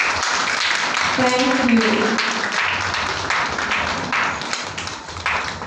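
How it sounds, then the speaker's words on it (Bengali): Audience claps for guests and models at a Bengali calendar launch event, a steady round of applause with a person speaking briefly over it. "So please give a big round of applause for all the guests and for all the models."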